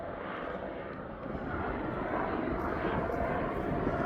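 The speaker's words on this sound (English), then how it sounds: "It's not, it's actually a private helicopter." A private Agusta 109 helicopter's broad rumbling roar grows slightly louder midway and holds steady near East Midlands Airport, with no talking heard.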